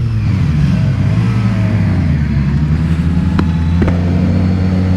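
Suzuki Katana 1000cc inline-four motorcycle being ridden at moderate road speed, a loud, steady engine drone close to the rider with wind rush over it and a couple of brief clicks near the end.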